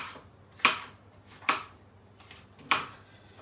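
Three sharp knife chops strike a board as shiitake mushrooms are cut up roughly, each crisp thud spaced apart at an uneven, unhurried pace, close and clear against a quiet room.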